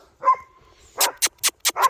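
A dog herding a heifer and cattle gives a short whine, then a quick run of four or five sharp, close barks in rapid, uneven succession.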